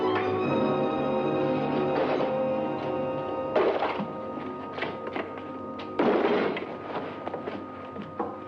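A heavy crate dropped in a 1943 Sherlock Holmes mystery film scene, two dull, loud thuds a few seconds apart over a continuous low background hum.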